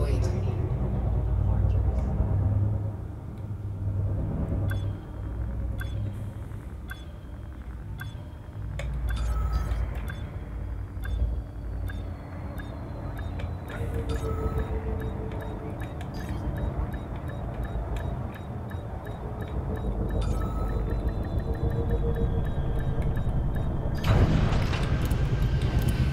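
A spaceship touches down in the game Elite Dangerous with a deep, continuous rumble of thrusters and scattered clanks, ending in a louder thud and hiss near the end, with brief speech over it.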